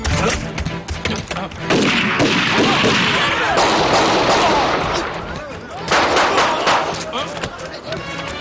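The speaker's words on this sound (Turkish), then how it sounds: "Nerede silah sesleri geliyor?" Rapid bursts of gunfire crackle in dense volleys, loud and close, with a short lull before another heavy burst.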